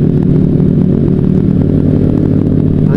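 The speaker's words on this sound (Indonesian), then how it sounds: "Bisa naik sih itu motor ya." A motorcycle engine labors up a mountain road between Gunung Luhur and Jasinga, droning loud and close at a steady, throbbing pitch with a rattling clatter throughout.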